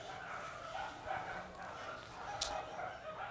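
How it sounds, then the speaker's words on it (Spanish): Dogs barking in the background behind an indoor podcast recording, a faint yelp among general room noise and murmur. "Volvieron los perros a ladrar."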